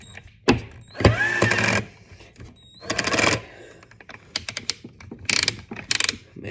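A Ryobi cordless power tool whirs in several short bursts with gaps between, close and loud, with mechanical clicking and rattling between runs and no talk.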